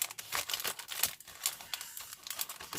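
Plastic packaging crinkles and rustles in rapid irregular bursts as parcels are opened with a cutter, close and busy, with scratchy tearing and handling noises throughout and no talking.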